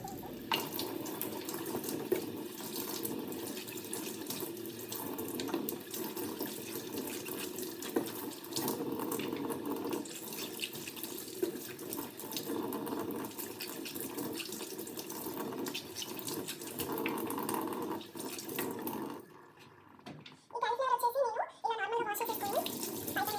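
Steady running tap water pours over carrots and beetroots being washed at a sink, a continuous close rush that breaks off briefly near the end with clinking handling sounds.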